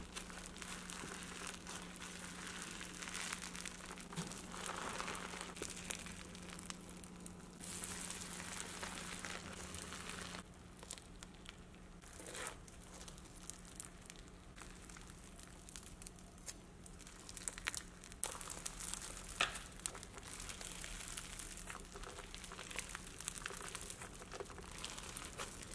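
Soft crackling and crinkling pops repeat continuously, close up and quiet, as crunchy slime is pressed and squeezed.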